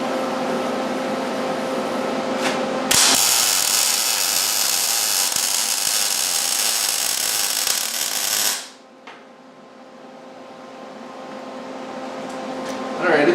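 MIG welding a tube joint, the puddle pushed back and forth between two pieces of metal: a steady loud crackling hiss lasting several seconds, starting abruptly and cutting off, with quieter background hum before and after.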